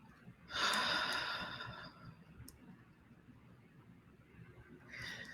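A person takes a deep breath during a guided chakra clearing session, a close, audible inhale that rises then trails into a long, softer exhale, followed by quiet and a brief second breath at the end.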